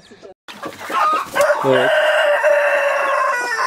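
Hens and chicks cluck and fowl calls rise over a busy coop background, loud and close, with a brief voice speaking near the start.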